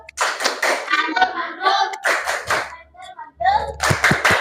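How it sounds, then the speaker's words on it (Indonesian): Indonesian primary classroom doing a rhythmic patterned clap for group 2, children clapping loudly in bursts together with chanted voices, brief pauses between phrases. "Beri tepuk tangan dulu. Tepuk mantul untuk kelompok 2."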